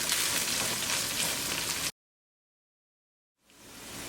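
Chopped ginger and green chili sizzling in a hot pan, a steady hiss that cuts off abruptly, then silence, then the frying hiss fades back in.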